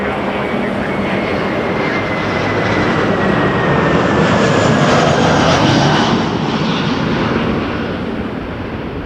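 Jet airliner engines at Toronto Pearson Airport roar loudly as an Air Canada plane passes, the whine swelling to a peak midway and then easing off; no voices are heard.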